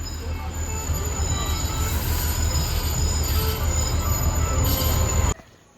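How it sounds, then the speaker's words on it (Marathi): A train passing close by on a monsoon hill-station route, a loud continuous rumble with squealing wheels that cuts off abruptly near the end. "आणि आत्ता ट्रेन लागली आहे, ट्रेन"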